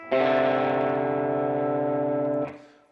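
A distorted guitar strikes a major second interval, C and the note directly above, and lets the dissonant interval ring for about two seconds before it is cut off.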